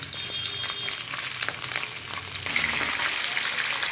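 Green chillies sizzle and fry steadily in a hot pan for tomato upma, a continuous close crackle with a few stir scrapes, growing slightly louder partway through.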